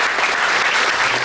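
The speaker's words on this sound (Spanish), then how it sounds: "vamos a darle un fuerte aplauso" Loud, dense applause from an audience at a panel event, continuous clapping without pause or talk over the whole stretch.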